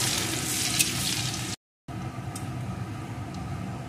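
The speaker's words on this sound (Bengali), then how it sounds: "এখন পেঁয়াজ কুচিটা 2 মিনিট ভেজে নেব।" Chopped onion fries in hot oil for an egg bhurji, giving a steady, close sizzle with a brief break partway through and no talking.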